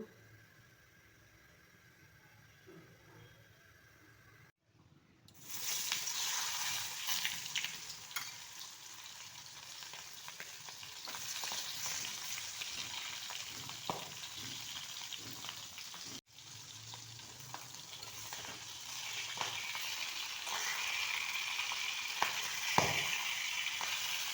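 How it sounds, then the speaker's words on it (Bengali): Boal fish fry in mustard oil: a faint hiss, then a louder steady sizzle from about five seconds, briefly dipping once, with scattered pops and no speech. "এখন মাছগুলোকে ভেজে নেব রান্নাটা আমি সরিষার তেল দিয়ে করব"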